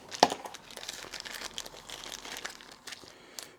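Cardboard for a model plane crinkling and crunching as it is handled and glued, with one sharp crackle near the start, then scattered rustles and taps, close and quiet.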